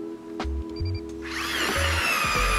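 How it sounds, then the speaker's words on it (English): An ice auger bores a hole through lake ice while ice fishing for crappie: a few short mechanical clunks, then a loud, steady grinding roar as the blade cuts in. "We'll drill a hole like that"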